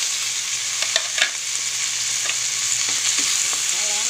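Garlic and onion sautéing in a pan for chop suey: a bright, dense sizzle fills the whole stretch, with scattered light ticks and scrapes from stirring and a faint low hum, close and fairly loud, with no one speaking.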